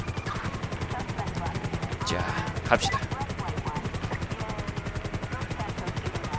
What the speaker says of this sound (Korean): 헬기 운전 힘들긴 하지만 어쩔 수 없어.